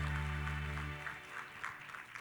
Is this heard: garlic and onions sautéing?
no